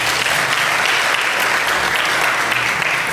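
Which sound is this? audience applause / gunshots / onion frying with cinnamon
audience applause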